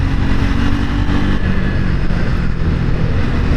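A Triumph Speed 400 motorcycle engine roars steadily and loudly up close, a dense low rumble with no pauses and no voices.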